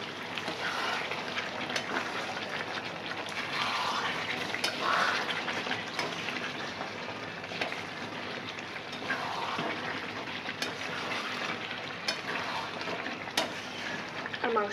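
Meat frying and being stirred in a pan as it is slowly cooked down for kosha, giving a continuous moderate sizzle punctuated by scraping spoon strokes and occasional clinks.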